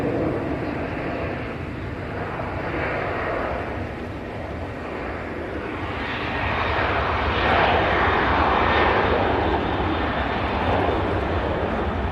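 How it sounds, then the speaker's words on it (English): A TUI airliner landing at Manchester Airport gives a continuous broad jet-engine roar that holds steady and then swells louder partway through, heard alone without talking. "Plenty of flare. Gets the aircraft down nicely."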